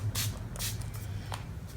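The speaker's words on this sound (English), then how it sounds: "I'm just going to spray my face with some Fix Plus so that my makeup stays all day" Fix Plus setting spray mists onto a face in several quick, close hissing spritzes with short gaps between them.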